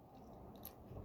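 A crisp bite into a crunchy Honeycrisp apple, up close and fairly quiet, with a short crunch followed by soft chewing and no talk.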